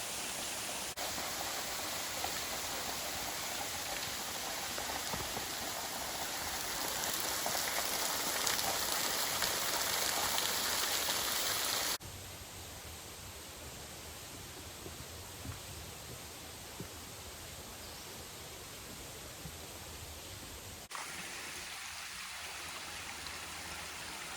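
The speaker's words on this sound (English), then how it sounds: "We're at the top of the fall, and it just continues down." Adams Falls in Linn Run State Park, Pennsylvania, roars as a steady, dense wash of falling water heard from the top of the fall, constant and broadband, louder in the first half and slightly quieter after a shift midway.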